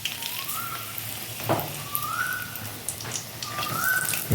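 Dry red chillies and bay leaves frying in oil make a light, patchy crackle and spatter, with a few faint high whistling tones drifting over it.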